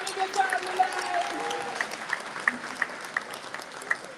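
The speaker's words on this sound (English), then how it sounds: "Please give me a big round of applause if you're having a good time tonight." Audience applause at an alumni class reunion celebration, moderate clapping with scattered cheers and voices mixed in, somewhat distant and steady throughout.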